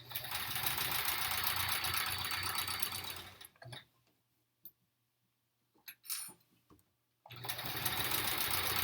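A sewing machine runs continuously, embroidering a quilt block with a loud, steady whir. It then stops, leaving a few clicks and faint handling sounds, before the steady whir starts up again at the end.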